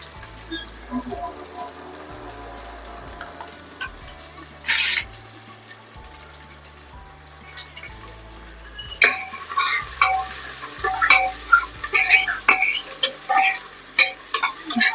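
Onion and cumin frying in a pan, with a soft sizzle and a low rhythmic ticking underneath, one brief loud burst of sizzle, then busier stirring clatter and crackling toward the end.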